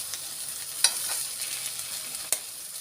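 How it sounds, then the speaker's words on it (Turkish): Stale bread slices fry in a hot pan with a constant bright sizzle, and two sharp clicks of a utensil mark the slices being turned; there is no speech. "Şimdi ekmeklerimizi çeviriyoruz."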